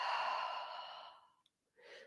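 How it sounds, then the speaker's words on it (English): A slow, audible exhale during a calm yoga session is close and soft, tapering off over about a second and a half before the next breath begins. "And breathing out."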